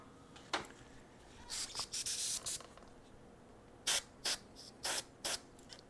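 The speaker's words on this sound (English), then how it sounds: "I'm just going to choose to spray in directions that don't go back and hit my model in other spots" An airbrush spraying paint onto a model hisses in short, close bursts, one brief puff then a cluster of longer sprays, followed by four or five evenly spaced quick blasts with quiet gaps between.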